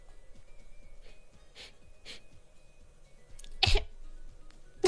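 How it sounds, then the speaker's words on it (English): A streamer lets out a small, baby-like cough that comes as one sharp burst, followed by a quieter catch of breath, after a few soft breathy sounds. "Let's hear that baby cough."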